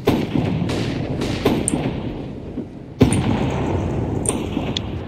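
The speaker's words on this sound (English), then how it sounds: "Throwing flashbang." Sharp bangs from a flashbang grenade and other explosive effects in a video game burst out a few times over steady game noise, with two loud cracks standing out.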